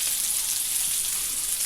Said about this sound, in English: we're also going to fry up the onions